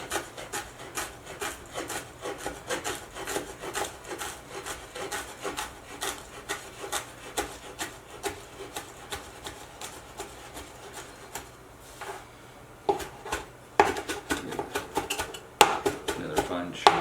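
A knife chops food on a cutting board while gluten-free stuffing is prepared. Rapid, dry tapping and rubbing strokes repeat steadily up close and grow louder and more clustered near the end.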